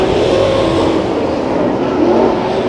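Race cars roar around Santa Maria Raceway during heat races, a loud, continuous, close engine drone that holds steady with no break.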